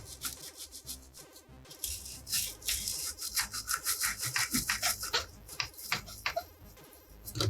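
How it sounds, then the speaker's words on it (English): A brush scrubs a Super Nintendo circuit board in circular motions around the base of its components, giving a steady close-up bristly rubbing with rapid strokes and no talk. "Scrub down at the base of everything."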